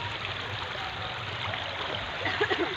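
Water rushes and trickles continuously in a broad, steady wash, fairly close, with a faint voice briefly audible near the end.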